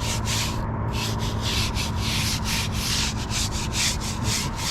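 A soft bristle brush scrubs a car tire coated in CarPro DarkSide dressing, giving a steady, close, continuous rubbing sound with rhythmic strokes throughout and no talking.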